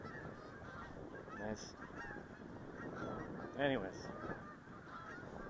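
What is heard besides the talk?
geese honking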